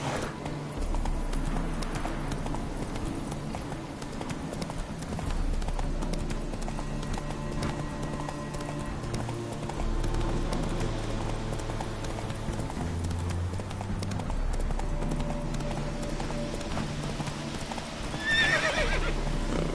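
Roach the horse from The Witcher 3 gallops with steady, loud hoofbeats throughout, with whinnying neighs breaking in, over a game music and ambience bed.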